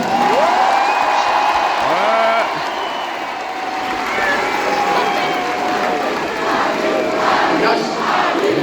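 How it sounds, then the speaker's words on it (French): A large crowd of football supporters gathered in a park to back France cheers and applauds loudly, a sustained roar of voices, shouts and clapping close around, with speech and calls rising over the noise. "vous pouvez vous applaudir"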